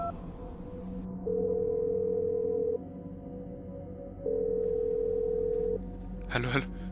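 A mobile phone dialing an outgoing call, heard as two long, steady ring-back tones separated by a pause over a low background hum, ending in a brief burst of noise.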